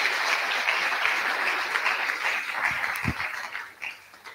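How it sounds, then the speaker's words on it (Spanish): Audience applause at a Spanish-language conference talk on physical activity and sport: a dense, moderately loud patter of clapping from a crowd that gradually thins and fades out. "¿Me podéis aplaudir?"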